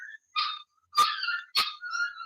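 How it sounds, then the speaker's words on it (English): Dogs outdoors yelp and snarl in short, sharp bursts as they fight, fairly close, with brief silences between the noises and no talk. "I'm outside and my dogs are fighting."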